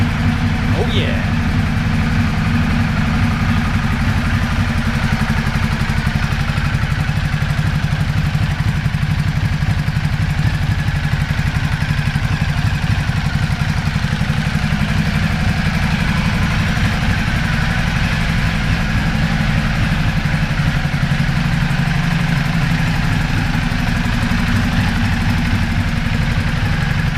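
A car engine, just repaired and warmed up, idles steadily and loudly up close, its low, even rumble holding without change throughout.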